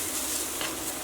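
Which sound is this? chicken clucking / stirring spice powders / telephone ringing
stirring spice powders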